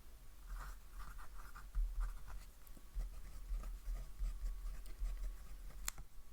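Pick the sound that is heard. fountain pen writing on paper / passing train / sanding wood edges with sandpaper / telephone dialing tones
fountain pen writing on paper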